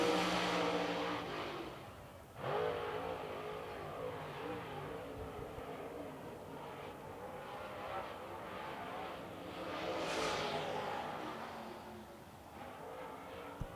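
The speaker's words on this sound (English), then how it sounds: "he sets it up off the top of 3, entering turn 4 down the hill and turns 4 to the white flag" Super late model race car lapping Lancaster Motor Speedway, its engine droning loud and steady through the turns, with a swell as it passes near; a commentator talks over the roar throughout.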